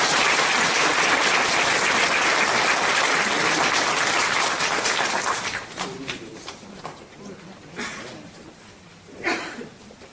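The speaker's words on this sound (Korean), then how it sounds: "큰 박수로 환영해 주시기 바랍니다" An audience at a redevelopment association general meeting gives a welcoming round of dense, loud applause that thins out midway into a few scattered claps before fading.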